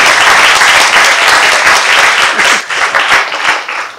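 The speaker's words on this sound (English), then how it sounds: "Another round of applause for all the candidates." Audience at a political panel applauding the candidates, dense steady clapping from a crowd close by for about four seconds, thinning slightly toward the end.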